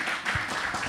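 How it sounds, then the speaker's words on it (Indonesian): Applause for Michael at a church service, a steady wash of hand claps from a congregation lasting the whole moment at moderate loudness, with no talking over it. "Tepuk tangan buat Michael."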